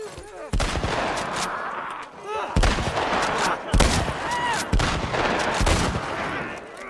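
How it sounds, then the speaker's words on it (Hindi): Bursts of gunfire in The Last of Us, several rapid volleys of loud shots separated by short pauses, with ringing echoes between them and a voice briefly speaking over the action. "अरे इसने ओपन फायर कर दिया"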